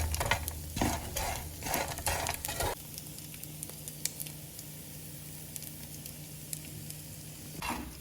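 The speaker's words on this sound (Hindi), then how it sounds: "इसकी साउंड जो है वो पॉपकॉर्न, जैसे पॉपकॉर्न बनाते हैं ना कौन सी साउंड होती है ना, इसी तरह इसकी भी आना शुरू हो जाएगी" Edible gum (gond) frying in hot fat for desi panjiri, crackling and stirred with a burst of dense sizzling pops for the first few seconds, then a quieter steady sizzle with sparse pops and a last flurry near the end.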